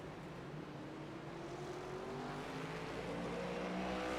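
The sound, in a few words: race cars in a racing video game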